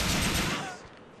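Gunfire in Grand Theft Auto IV during a construction-site battle: a loud, close burst of rapid shots that fades quickly into a decaying tail.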